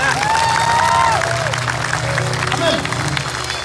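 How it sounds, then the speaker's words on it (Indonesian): Audience applause and cheering at an evening evangelistic gathering in Ranau, Borneo, with music and a sustained tone running beneath the crowd noise. "Dengan tepuk tangan yang paling meriah."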